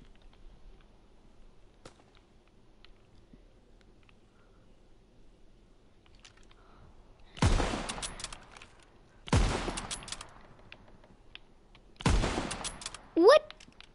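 Short bursts of automatic gunfire in a World War II one-on-one-on-one shooter match, three loud volleys spaced a few seconds apart over quiet background.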